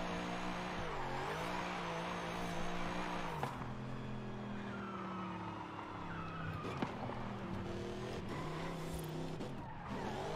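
A Mercedes AMG C63 drifts in Forza Horizon 5, its engine droning steadily with shifting pitch and tire squeal throughout, loud and continuous with no talk.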